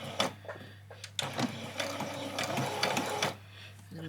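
A sewing machine stitches fabric for an apron, back-stitching. It starts with a few short bursts, then runs in a steady close whirring hum for about two seconds before stopping.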